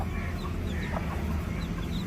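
A hen clucks softly and steadily close by while dust-bathing in loose soil alongside her day-old chicks, with continuous low scratching and farmyard rustle underneath.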